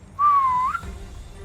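A single sustained human whistle, clear and fairly loud, holding a steady tone for about half a second before a quick upward flick at the end, followed by quiet.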